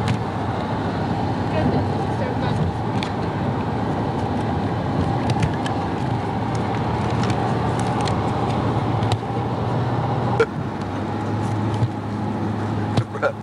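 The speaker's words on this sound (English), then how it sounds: "Sherry's driving like a maniac." A car driven along a road with a constant, fairly loud cabin rumble and road roar throughout, low engine hum underneath and a few faint knocks, with no clear talk.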